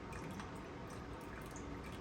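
Water is poured into a measuring cup while making yeast bread from fresh-milled grain, giving a soft continuous trickle with faint splashy drips, quiet and close.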